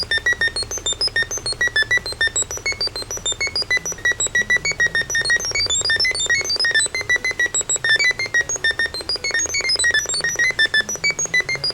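An irritating, rapidly beeping chiptune loop from the NES game Balloon Fight plays alone, with dense repetitive high-pitched square-wave notes pulsing in a steady rhythm.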